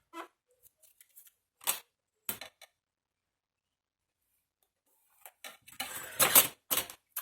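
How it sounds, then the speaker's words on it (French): Scissors snip in a bookbinding cover-making session: a few isolated crisp clicks early on, a long silence, then a close, busier run of sharp cutting and snipping sounds. "Voilà, des ciseaux."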